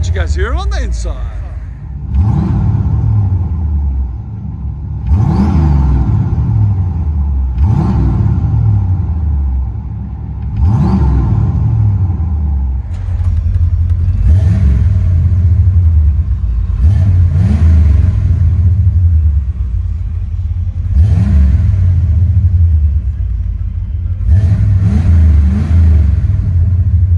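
A 1979-1980 Chevy Corvette V8 with aftermarket exhaust, Flowmaster 40 Series or straight pipe, revs repeatedly as heard from inside the cabin, about eight loud rumbling surges at a steady rhythm, with talk over the engine.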